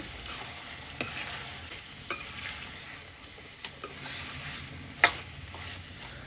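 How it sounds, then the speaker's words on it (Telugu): Country chicken curry being stirred after turmeric goes in, with a soft steady sizzle and several distinct scraping clicks of the spoon against the pot, close by and without speech. "ఇప్పుడు దీనిలో కొద్దిగా పసుపు వేసుకుని ఒకసారి బాగా మిక్స్ చేస్తున్నాను"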